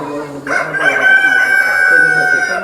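A rooster of the large tiger chicken breed crows on a farm, one long loud cock-a-doodle-doo rising after a brief lead-in and holding steady to the end, with other fowl faintly audible underneath.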